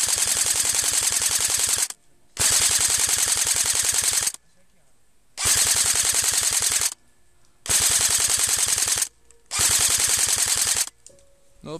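Airsoft gun fired in long full-auto bursts during a woodland airsoft match, five loud sustained strings of rapid shots separated by short pauses, close to the listener.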